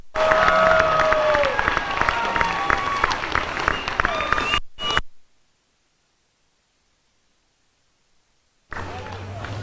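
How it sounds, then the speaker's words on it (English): A crowd applauds and cheers at a 2018 military academy commencement ceremony honoring the cadet corps. Dense clapping with a whistle for nearly five seconds cuts to silence, then the crowd noise returns near the end. "Please give the Corps of Cadets a vigorous round of applause for completing a successful school year."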